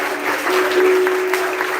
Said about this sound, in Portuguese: Você pode celebrar a Deus com as suas palmas.